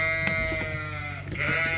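Texel Dorset cross sheep bleat inside a barn, a few wavering, nasal calls in quick succession over a low, steady background hum.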